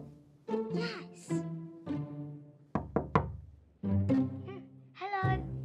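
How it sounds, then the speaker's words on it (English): Knocking on a bedroom wall comes in short sharp raps, a quick cluster of three, with children's voices talking and calling between the knocks in a quiet room. "What's all that knocking I can hear?"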